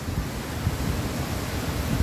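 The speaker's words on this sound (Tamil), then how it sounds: "சத்தம் கேட்குதா? தண்ணி சத்தம் காதுல." Rushing water of the Manimuthu river roars in a steady, broadband wash, loud and close with buffeting wind on the microphone and no pauses.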